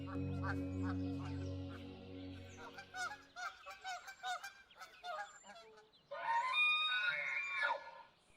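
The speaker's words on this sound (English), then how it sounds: "Amidst the noisy chaos of the ground birds" Noisy ground birds honk and call in a chaotic goose-like chorus, with repeated loud squawks and a dense burst of overlapping cries near the end.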